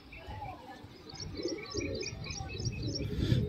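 Pigeons coo softly in a repeating, pulsing pattern, joined by light chirps, all fairly faint and steady with no talking.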